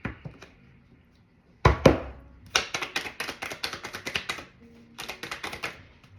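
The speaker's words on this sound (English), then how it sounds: "Two more shuffles." A tarot deck is shuffled by hand in a run of quick, crisp clacks and riffles, close by, starting with a sharp knock and then rattling in two bursts separated by a short pause.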